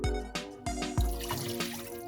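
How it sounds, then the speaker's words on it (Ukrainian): Water is poured into a cooking pot to make a lemon-flavoured fish sauce, a steady close splashing gurgle with a few heavier glugs at the start, and no talking. "тепер доливаю води"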